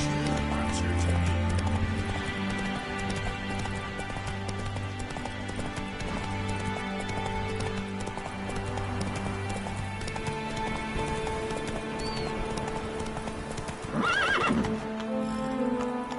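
Roach, the horse in the video game Witcher 3, gallops with steady rhythmic hoofbeats over game music and voices, then gives a loud whinny near the end.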